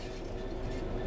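Train rolling along the rails in the Train Sim World 3 video game, a steady close rumble with a continuous rail hum and no voices.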